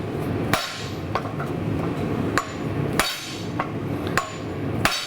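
Steel knife stock being forged under a hammer, ringing metallic strikes landing at irregular intervals, about eight distinct blows over a steady low background hum, close and loud.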